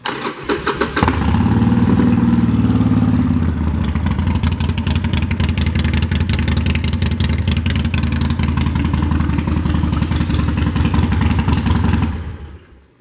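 A 2014 Harley-Davidson Sportster 48 (XL1200X) with Python pipes fires up and runs loud and close, a deep, steady rumble that holds for about eleven seconds before cutting off.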